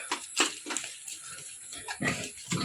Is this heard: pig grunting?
yes